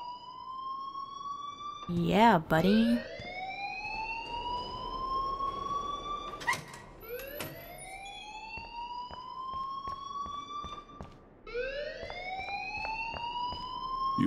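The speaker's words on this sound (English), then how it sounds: "please turn off that alarm since that's your job" An alarm in the video game Life is Strange rises and falls in repeated siren-like sweeps, loud and persistent, with a brief shout of speech near the start.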